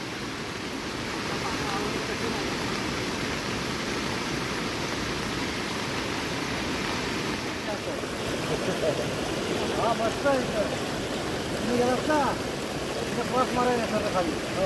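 Swollen river water rushes steadily after heavy monsoon rain in Konkan, a continuous broadband roar that stays loud throughout, with faint voices breaking through near the end.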